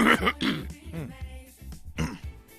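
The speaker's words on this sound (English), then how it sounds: "I had to clear my throat" A man clears his throat several times in quick, rough bursts, close to the microphone, with a bit of voice mixed in.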